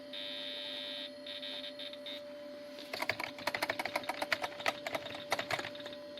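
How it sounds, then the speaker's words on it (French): A frozen, unresponsive 2000 Acer AcerPower S Series PC: its thin electronic PC speaker beeper whines in broken high tones over a steady hum as the mouse moves, then gives way to a rapid flurry of sharp clicking. "en fonction de comment je bouge ma souris, le beeper du PC fait un son"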